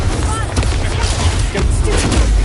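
Fire spells Incendio and Confringo blast in Hogwarts Legacy combat, loud booming bursts and crackling impacts packed densely across the clip, with voices shouting over the spellfire.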